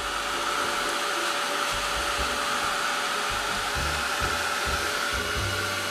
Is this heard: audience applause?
no